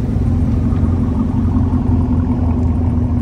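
Deep, steady rumble of Chevrolet Camaro ZL1 cars idling and rolling at a Las Vegas car meet, a loud continuous low drone close by with no talk.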